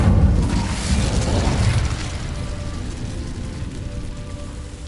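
In a video game, a spell called Incendio bursts into fire with a loud whooshing blast. The roar then fades into a steady crackling rumble of flames.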